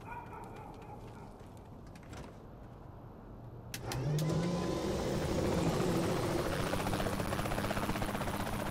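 Helicopter in the video game Saints Row The Third: a steady engine and rotor drone that grows louder and fuller about halfway through after a sharp transient, with no talk over it.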